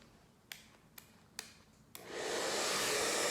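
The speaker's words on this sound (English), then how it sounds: "take your blow dryer and direct everything like feathered" A blow dryer running on low blows steadily to dry bangs, starting up after a few sharp clicks and snaps and holding a continuous airy whoosh.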